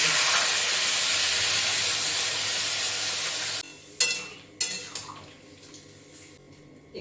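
Water is poured into a hot pan of fish curry with ginger and green chilli, setting off a loud broad sizzle that cuts off sharply, followed by a few metallic clanks of a lid and utensils.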